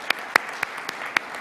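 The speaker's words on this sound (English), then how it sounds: "So a big round of applause for all of them." A handful of sparse, separate claps ring out in a ceremony hall for the alumni relations team at an alumni achievement awards event, moderately loud and irregular over a quiet room background.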